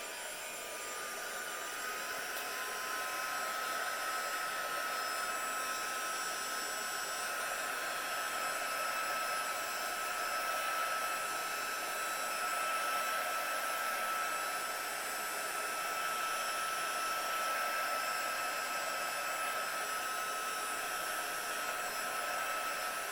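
A heat tool dries a hot-foiled Glimmer card with a steady, loud blowing whoosh that stays even and uninterrupted throughout.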